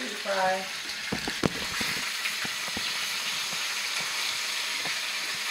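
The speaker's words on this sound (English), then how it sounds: "That chicken's frying." Steady crackling sizzle of chicken frying, with scattered pops and a brief voice near the start.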